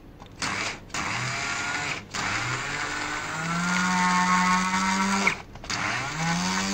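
Peanuts whirl in an electric grinder for peanut butter, a steady motor drone with a rising and falling pitch, broken by three brief stops and restarts.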